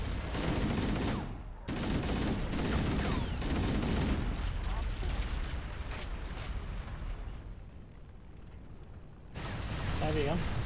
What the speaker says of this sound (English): Well, let's shoot him.